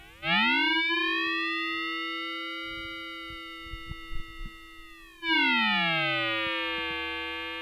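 A Nord Micro Modular synth produces FM tones whose oscillator pitch is shifted by a random generator, giving two long, bright sustained notes that glide and bend in pitch and slowly fade, close and alone.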